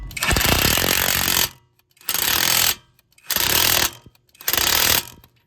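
An impact wrench on the outer tie rod nut of a 2007-2012 Hyundai Santa Fe fires in four loud, close bursts, the first and longest about one and a half seconds, then three shorter rattling hammer bursts with short silent gaps between them.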